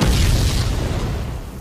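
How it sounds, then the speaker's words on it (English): A cartoon rocket launcher fires and explodes in one loud, booming burst that fades gradually, with no talking over it. "I shall enjoy using the rocket launcher instead!"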